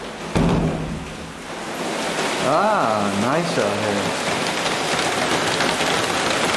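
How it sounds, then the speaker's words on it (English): Steady rain falls outdoors at Truk Lagoon, a constant broadband hiss and patter close by, with someone speaking briefly over it near the start. "You can hear the rain."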